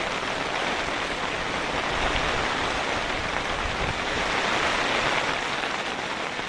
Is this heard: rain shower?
yes